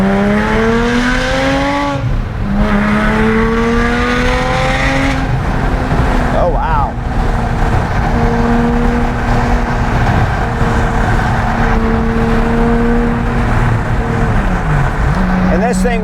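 A supercharged Porsche 997.1 with a 4.1L engine making about 500 horsepower revs and accelerates through several gear changes, a loud, close engine note rising and dropping in pitch repeatedly, with some talk underneath.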